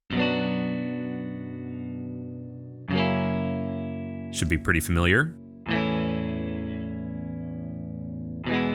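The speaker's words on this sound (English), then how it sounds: "So first, let me play some chords." Shreddage 3 Stratus, a Kontakt virtual electric guitar, plays sustained distorted chords in a strummed progression, each ringing for about three seconds. A voice speaks briefly between two of the chords.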